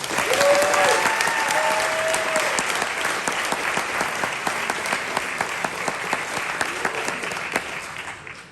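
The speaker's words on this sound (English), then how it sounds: "Give him a round of applause." A crowd claps in a sustained round of applause, loud at first and gradually thinning toward the end, with a few brief voices rising over it early on.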